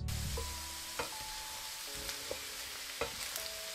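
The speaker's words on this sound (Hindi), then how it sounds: "देख लो तेल दे अपनी अरबी फ्राई होगी" Taro root (arbi) fries in oil with a steady, fairly quiet sizzle, broken by a few soft stirring clinks and scrapes, while faint tonal beeps sound in the background.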